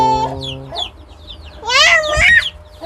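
A chicken clucks and squawks up close, in a few quick, loud bursts with short gaps between them, against a quiet rural background.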